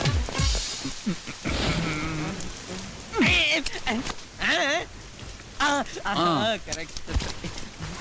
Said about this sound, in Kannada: ಮಳೆ ಮಳೆ